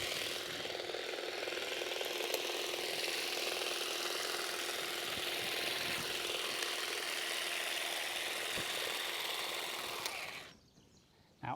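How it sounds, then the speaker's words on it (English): Battery-powered STIHL HSA 26 grass trimmer cutting along a lawn edge in a garden, a steady close whirring buzz held without a break for about ten seconds before cutting off abruptly. "All right then, let's get to trimming."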